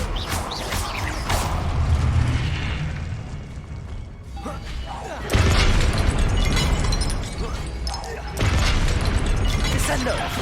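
Confringo spell blasts boom in Hogwarts Legacy. Rumbling explosions and bursts churn under a busy mix of game effects, with two loud strikes hitting hard midway and late.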